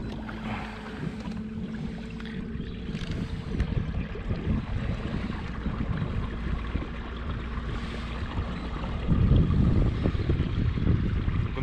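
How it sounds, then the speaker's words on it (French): A boat with a Motorguide Xi5 trolling motor holds its position on its own, giving a low steady motor hum with water lapping and splashing around the hull, which grows louder toward the end. "Le bateau va aller s'ancrer sur le point rock tout seul."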